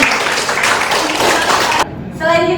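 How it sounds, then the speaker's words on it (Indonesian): Short burst of classroom applause from students, a dense patter of hands that cuts off abruptly partway through, followed by a brief voice. "Tepuk tangan dulu semuanya"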